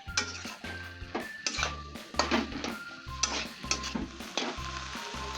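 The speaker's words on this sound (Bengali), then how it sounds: "এবার সবকিছু আমি ভালো করে মিশিয়ে নিই।" Fenugreek greens with fried egg and oil are stirred in a pan, giving a steady sizzle broken by rhythmic scraping strokes of the spatula against the pan, close and clear.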